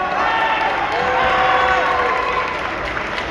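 Crowd at a New York boxing press conference cheering and shouting in a steady, loud wall of noise, with some voices rising above the roar throughout.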